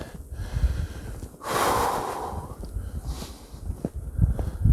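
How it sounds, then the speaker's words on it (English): Heavy, close breathing with a loud rushing exhale in the middle and rough snorting breaths before and after. "got a comment about my heavy breathing"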